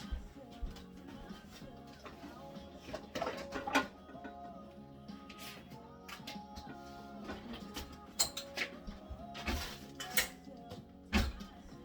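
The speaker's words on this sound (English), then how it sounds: "Let me just grab a little bowl here." Small bowls and dishes clink and knock together as one is pulled out in a home kitchen during pickle canning, a series of light ceramic taps and clatters at close range.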